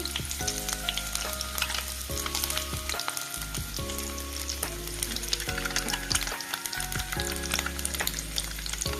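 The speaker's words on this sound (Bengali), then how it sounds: "আর ডিমটাও আমি এমনি ভেজে নেব।" Boiled eggs frying in hot oil, loud, continuous, crackling sizzle close up, with a tonal hum running beneath it throughout.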